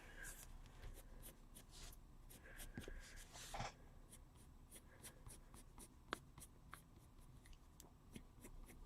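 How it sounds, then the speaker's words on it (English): Colored pencil flicked with firm pressure across soft paper, a steady run of quick, dry scratchy strokes close to the mic with occasional louder scrapes. "I'm using firm pressure and I'm just flicking the pencil."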